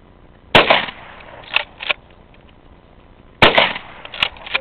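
Two loud, sharp gunshots from a big gun aimed at a bottle, each followed by the clatter of handling or cocking, close and outdoors with no talk.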